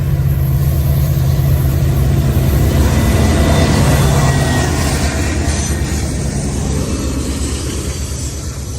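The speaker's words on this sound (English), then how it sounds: "This train has a lot of squealing noises." A long freight train of 106 cars rolls steadily past at close range, a loud continuous rumble of wheels and engine with sustained high squealing tones from the wheels on the rails.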